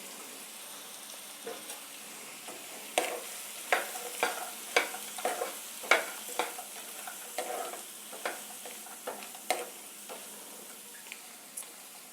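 Roasted peanuts and frozen peas being stirred in a pan for a peanut corn chaat, with a quiet background hiss and a run of crisp scraping and rattling spoon strokes at an irregular rhythm, without any voices.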